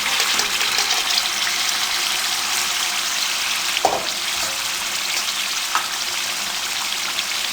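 Chicken frying in a pot with tomatoes and green chillies for Sindhi biryani, a loud, steady, hissing sizzle with a couple of brief stirring knocks, close and uninterrupted by speech.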